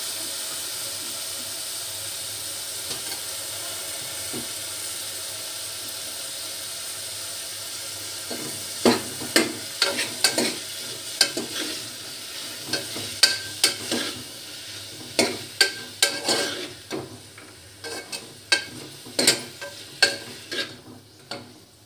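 Capsicum pieces frying in a curry pan give a continuous close hiss, joined partway through by a run of sharp, irregular scraping and clattering stirs that continue to the end.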